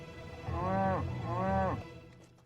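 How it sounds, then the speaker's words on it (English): Cattle low with two long, drawn-out moos in quick succession, loud and close, each rising and falling in a steady tone, followed by quiet. "Could these cattle be a target for terrorists?"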